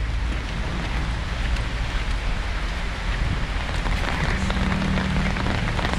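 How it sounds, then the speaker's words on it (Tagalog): Heavy rain falls in a dense, steady patter and hiss, continuous and fairly loud from start to finish, with no talking. "talagang umulan na"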